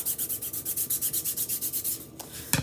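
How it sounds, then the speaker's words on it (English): A chalk transfer stencil is rubbed down by hand in fast, even back-and-forth strokes, a close rhythmic scrubbing that stops near the end and is followed by a soft knock. "Rub that down really, really well."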